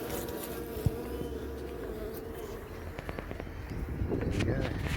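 Bees buzz in a wild hive lodged inside a wall, a steady low insect drone close by, broken by a sharp knock and scattered scraping and handling noises as bricks are worked.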